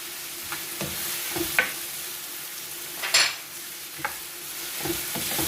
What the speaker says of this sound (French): Toujours mélanger.